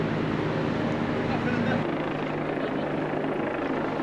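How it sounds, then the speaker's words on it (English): A loud, steady helicopter drone with a low throbbing rotor hum, close overhead in London near Cleopatra's Needle, filling the whole clip. "there is a helicopter above us."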